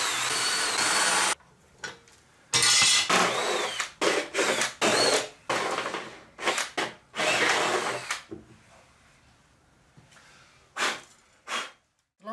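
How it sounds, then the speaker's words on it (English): A step drill bores a hole through a door panel in repeated loud, harsh bursts, close up, with brief pauses between runs and shorter stuttering spurts toward the end; no one speaks. "Then I'll use this, the step drill."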